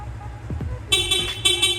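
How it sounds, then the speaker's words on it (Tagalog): Stock horn on a Yamaha Sniper 155 motorcycle sounds in two short, loud, bright honks close by, following a brief engine or handling noise. "busina naman, stock horn."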